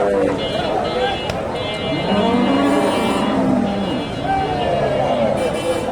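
Cattle low repeatedly amid a busy cattle market in northern Bangladesh where pregnant local cows are sold, their long moos rising over a constant hubbub of people talking and nearby traffic.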